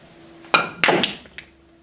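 Pool cue striking the cue ball, followed by a few sharp clicks of balls colliding on a billiard table, close and crisp in a quiet room, no talking.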